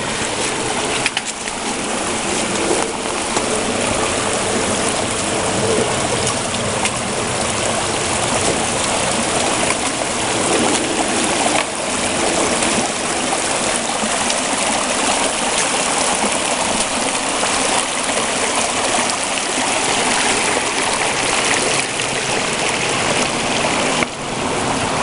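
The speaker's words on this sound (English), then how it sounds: "that's a torrent of water right there" A creek in torrent at a stream crossing on the Benton MacKaye Trail, its dense, steady rushing roar of fast water continuous and close throughout, with no voices.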